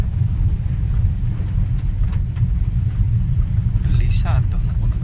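A car engine rumbles low and steady, close by, while the car slowly reverses toward a muddy garage, with a voice faintly audible over the drone.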